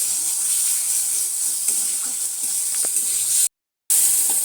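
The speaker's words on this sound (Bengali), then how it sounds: "এইভাবে খানিকক্ষণ মশলাটা কষিয়ে নিতে হবে" Ginger and garlic paste frying in a pan gives a steady, close hiss of sizzling oil with a few faint clinks, then cuts out briefly.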